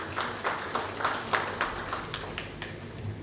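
Light applause from a workshop audience welcoming a speaker to the podium, sparse individual claps standing out in a soft uneven rhythm, fairly quiet and thin in the room.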